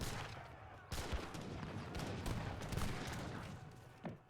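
Massed infantry musket volleys and cannon fire crackle continuously in an Age of Empires 3 battle, dense overlapping gunfire with heavier booms, moderately distant.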